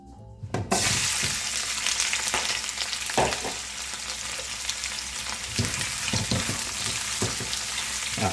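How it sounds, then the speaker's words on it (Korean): Vegetables stir-frying in oil in a hot frying pan for jjamppong, a loud steady sizzle with scattered clacks and scrapes of stirring, close and continuous with no talk. "후라이팬에 어느 정도 열이 올랐다 싶으면은 야채를 먼저 볶아줄게요"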